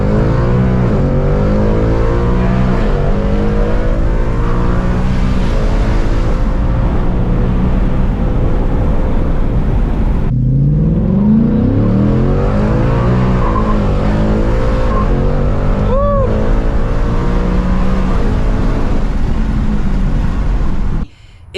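A Ford Mustang Mach 1 V8 accelerates hard, its engine note climbing steeply, cutting out for a quick gear change, then surging up again, loud and close throughout.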